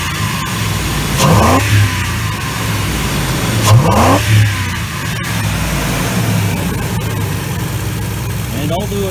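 A Ford 4.6/5.4 2V V8 fitted with a free cold air intake mod revs hard several times in quick bursts, each rise in engine note falling back to a steady idle, close and loud.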